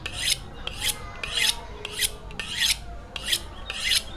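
A Jianfeng sharpening-system blade scrapes in steady, repeated strokes across a sharpening stone, about seven rasping passes in a regular rhythm, close up, with no voices.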